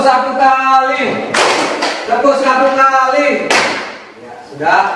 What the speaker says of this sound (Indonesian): tepuk satu kali